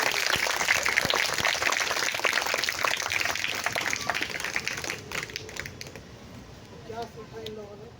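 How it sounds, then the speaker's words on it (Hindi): A theatre audience at an outdoor street play on clean India claps loudly in a dense, sustained burst of applause that thins out toward the end, with voices mixed in. "एनर्जी के साथ जोरदार तालियां"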